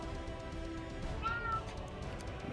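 A cat gives a single short meow, faint and brief, in the middle of a quiet tabletop role-playing game session with low background hiss.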